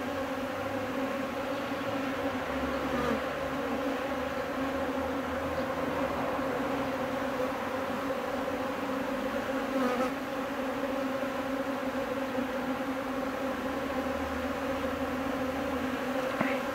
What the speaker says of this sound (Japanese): いろんなところに蜂が飛んで、こんな材木のところにも止まったりしてます。